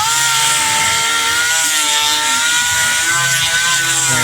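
An electric grinder working on a piston pin bushing, a loud, continuous high whine with a steady droning tone, close up and unbroken, joined by faint low knocks.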